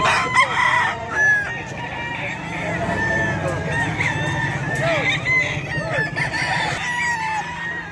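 Lemon gamefowl roosters crowing repeatedly at a busy poultry market in Bocaue, several birds overlapping near and far amid clucking and constant crowd chatter, with people talking throughout.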